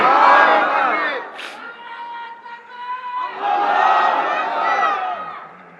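A large open-air religious rally crowd roars the takbir, Allahu Akbar, in unison, with two loud swelling waves of massed chanting separated by a brief lull.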